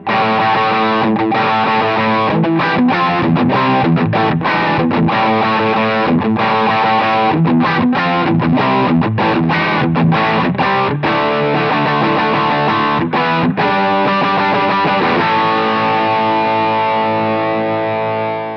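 A distorted electric guitar through an Origin Effects Halcyon Gold overdrive pedal plays chords and riffs loudly and continuously, with a crunchy overdriven tone, ending on a sustained ringing chord.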